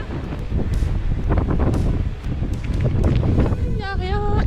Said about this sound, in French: Il y a des rafales à 60 km/h.